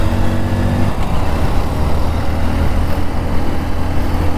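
An overheated Honda Splendor BS6 motorcycle engine idles loudly nearby with a rough, uneven rattling chug that carries on throughout.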